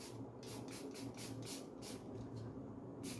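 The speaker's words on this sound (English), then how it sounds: "So I'll just spray it from atop." A small hand sprayer mists water over a watercolor cityscape painting in a series of about eight soft, short hissing bursts, quiet and close, with steady low background hum and no talk.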